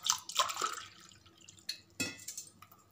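Water splashes and drips into a vessel of toor dal set to soak, with a few clinking bursts near the start and again at two seconds, close and fairly loud, no talk.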